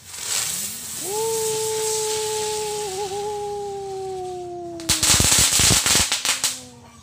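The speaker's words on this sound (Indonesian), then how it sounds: "mercon gangsing kretek" A spinning firecracker whistles with a steady rising-then-falling tone for several seconds, then ends in a rapid burst of loud cracks and pops.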